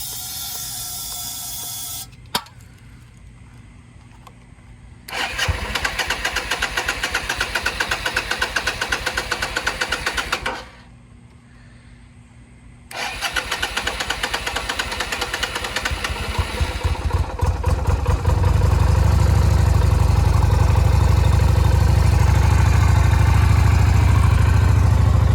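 A Yamaha XV250 motorcycle engine cranks and catches after two short bursts, then settles into a steady, loud, close running idle with a low rumble that grows fuller toward the end.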